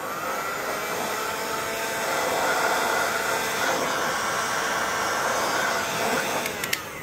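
A heat gun warms a Mazda xenon HID headlight housing to free the projector, blowing a loud, steady airy roar close by, with a few faint clicks near the end.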